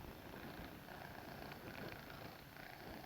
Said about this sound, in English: I'm going to pet the kitty.